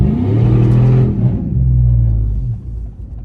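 A loud Corvette C6 engine revs hard, a deep throaty roar rising and falling over a few seconds before settling to a rumbling idle.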